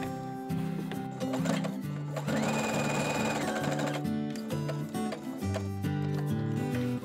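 A sewing machine zigzag stitching the elastic ends of a blouson together, loud and close, a fast rhythmic mechanical chatter with a brief whining motor tone partway through.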